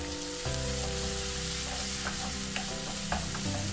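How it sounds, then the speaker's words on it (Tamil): Onions fry in a pan until browned, a continuous close sizzle with occasional soft stirring scrapes and a steady hum running underneath. "வெங்காயம் நல்லா வதங்கட்டும்"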